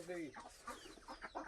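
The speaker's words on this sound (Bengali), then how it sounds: "শব্দ করছে, মুরগির কিচিরমিচির শব্দ আমরা শুনতে পাচ্ছি" Chickens on an integrated family farm cluck in quick, soft bursts, several short calls overlapping in a brief close run, quiet and without other sounds.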